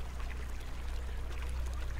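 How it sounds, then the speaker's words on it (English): Flowing water from a green waterfall in the video game Shrine, a steady rushing wash heard alone and at an even level for the whole stretch. "got a green waterfall"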